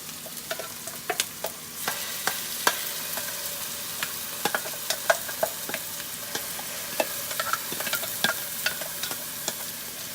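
Caramelized brown onions frying with masala for Bangalore Donne biryani sizzle steadily in the pan, broken by repeated sharp scrapes and clinks of stirring, close and without talk.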